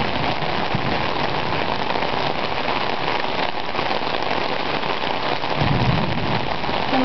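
Heavy rain from a freak storm during a flood pours down in a loud, dense, unbroken roar with no voices.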